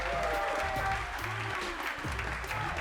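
Audience applause for a 135-pound MMA champion at a fight event, a steady wash of clapping with crowd noise mixed in, fairly loud and continuous throughout.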